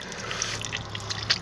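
Ice-cold mountain water flows and drips in a steady trickle with scattered splashy drops, close by and alone, inside a palace of Sultan Abdul Hamid II.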